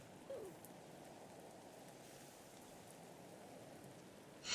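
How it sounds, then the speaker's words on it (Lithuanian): Steady rain in the Roblox-style game Natural Disaster Survival, a soft continuous hiss of falling water heard alone, with a brief bump near the start and a louder burst at the very end. "Bet šitą lietų įmanoma išgyventi."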